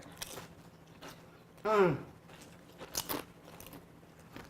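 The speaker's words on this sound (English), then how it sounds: "Can you hear us chewing?" People chew homemade salsa with lime up close: a loud crunchy bite stands out among softer, scattered chewing sounds, with a faint voice now and then.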